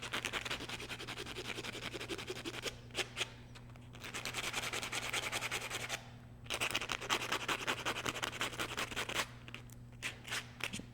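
Close, steady rubbing strokes of a file bevelling the edge of a nail, running continuously in bursts with brief pauses, over a constant low hum, with no talking.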